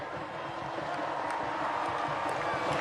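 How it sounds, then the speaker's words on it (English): Distant crowd noise at a rugby sevens final between South Africa and Fiji in Hamilton, New Zealand, a steady, fairly faint wash of clapping and cheering from a large stadium audience. "can I have a round of applause please for South Africa and Fiji"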